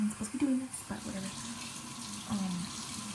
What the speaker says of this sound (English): Let me wash dishes.